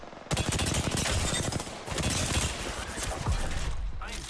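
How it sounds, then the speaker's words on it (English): Rapid automatic gunfire in the video game Apex Legends rattles almost without pause, loud and close, dense bursts dipping only briefly before resuming. "I am taking fire, friends."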